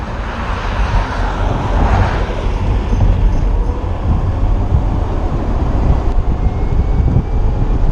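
An electric VW Beetle replica, the MG Type T, strains against its parking brake, giving a steady loud rumbling drone that continues throughout without voices.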